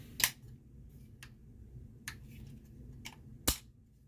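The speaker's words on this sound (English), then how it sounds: "Let's hear that beautiful AK sound." Sharp metallic clacks from cycling the action of a Century Arms WASR-10 AK rifle, several crisp close hits spaced apart with a quiet pause between them.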